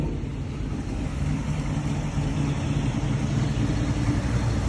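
A 1967 Camaro RS/SS convertible with a 427 cubic-inch V8 and four-speed runs steadily, a loud, low, continuous engine rumble heard close with no voices.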